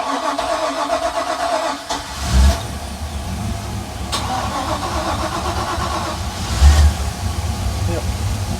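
Twin-engine boat's motor cranks and fires up, a low rumbling engine running steadily with a couple of brief thumps and surges, loud and close.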